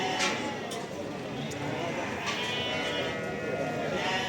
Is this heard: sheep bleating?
yes